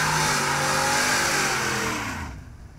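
A 2020 Shelby F-150 Super Snake Sport pickup revs its engine hard in a loud, close roar that holds steady, then tapers off near the end.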